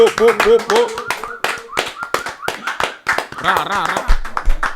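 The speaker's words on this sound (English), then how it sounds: "Can I get a round of applause?" Scattered sharp hand claps ring out on a UK rap podcast, mixed with animated voices talking and calling out over them.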